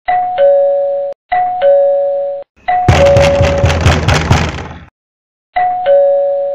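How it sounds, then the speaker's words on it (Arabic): A loud electronic doorbell chimes its two-note ding-dong again and again, broken in the middle by a burst of rapid, heavy knocking on a door, then the chime resumes; no one speaks. "ده نفس الجرس ونفس الخبطة."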